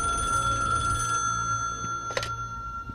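A telephone bell rings steadily indoors, a continuous trilling tone lasting the whole stretch with a sharp clatter near the end, moderately loud with a low background hum.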